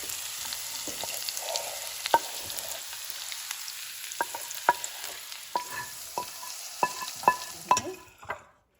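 Hot tadka poured into semolina idli batter gives a soft, close sizzle, followed by sharp clicks and scrapes of a spoon against the bowl that fade into quiet at the end.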